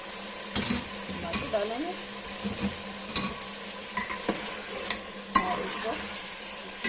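Chicken fries with tomatoes in a pan for a moringa chicken curry, a soft sizzle broken by utensil scrapes and clinks while a person talks briefly over it.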